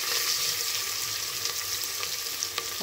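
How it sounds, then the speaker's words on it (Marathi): Onion, curry leaves and green chilli sauté in hot oil for drumstick pulao, a steady dense sizzle running throughout at close range, with faint stirring and no voices. "आता हे आता 2 मिनिटं परतून घेते छान।"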